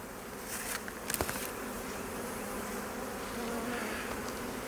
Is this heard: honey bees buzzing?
yes